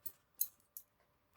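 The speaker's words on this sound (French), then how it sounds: "Je vais prendre les ciseaux" Three quick, crisp snips of scissors, evenly spaced in an otherwise quiet room.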